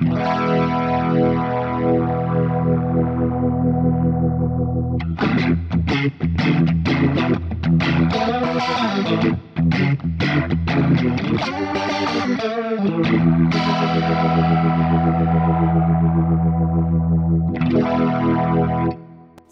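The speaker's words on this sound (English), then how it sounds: "like a real Leslie, it'll actually ramp up slowly over a set period of time" Leslie-style rotary speaker effect from a Fractal FM9 on electric guitar, the swirl ramping up slowly as the channel switches; sustained chords give way to busier, choppier playing, then long ringing chords, loud and up close.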